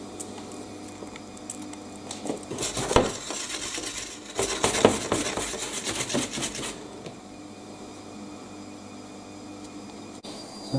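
A non-stick pancake pan slides back and forth and side to side on the hob, producing bursts of scraping and rattling metal with a faint sizzle beneath, then quieter stretches.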